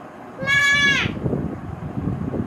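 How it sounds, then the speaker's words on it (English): A sheep gives one clear, wavering bleat lasting about half a second, loud and close, followed by a low rumbling background hum with no voices. "Sheep."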